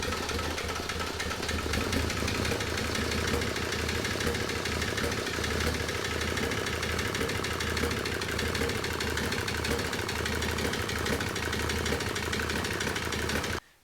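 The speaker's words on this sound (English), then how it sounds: "there's a bit of a knocking sound going on in the engine" A smoky, rough-running Mercedes diesel engine in a W201 chassis knocks steadily, a dense rattling clatter over a low drone that stays loud and even throughout before cutting off at the end, with no talking.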